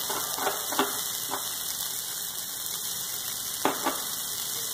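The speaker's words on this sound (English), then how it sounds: "Now I'm adding all the semaiyas here" Roasted semaiya vermicelli tipped into a hot pan, hissing in a constant bright sizzle with a few louder crackling bursts, close up and without talk.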